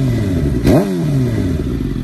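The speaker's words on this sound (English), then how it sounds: "Do a big rev for you guys so you guys can see" Suzuki GSX-R 750 motorcycle fitted with an M4 full exhaust, idling loudly close by, then a quick throttle blip with a rising and falling rev before settling back to a steady idle.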